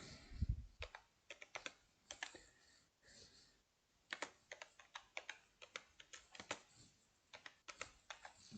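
A computer keyboard clatters with quick, uneven bursts of key clicks separated by short pauses, close and fairly quiet, with no speech over it.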